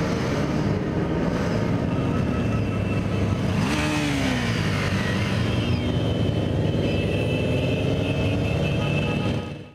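A procession of bikers rides motorcycles toward a fortress in Brest, with a loud continuous engine roar and passing revs close by, no speech over it.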